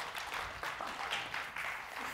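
A church audience gives a short round of scattered clapping, faint and somewhat distant, fading after about two seconds.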